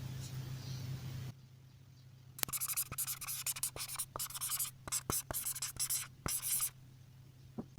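Pen writing out a math answer on paper, close quick scratchy strokes in short bursts after a brief pause, with a faint voice at the start.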